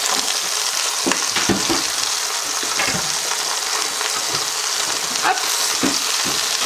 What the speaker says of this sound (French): Et je fais revenir aussi un tout petit peu les légumes.